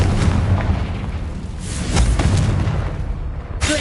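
A Confringo fire spell explodes in the Hogwarts Legacy video game with loud, booming blasts that rumble on continuously, followed by a fresh burst at the end.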